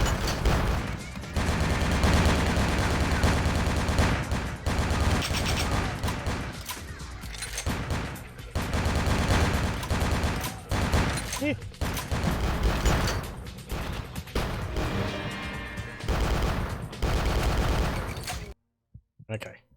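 Rapid automatic gunfire rattles almost nonstop in Vampire: The Masquerade - Bloodlines, loud bursts with brief gaps, while a voice talks over the shooting.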